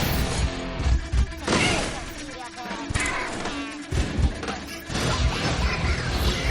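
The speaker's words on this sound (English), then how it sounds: "smashes the TV in anger." A television smashed in anger: loud crashing and heavy impacts with clattering debris, several bursts of violent noise over about six seconds, set against a busy film soundtrack.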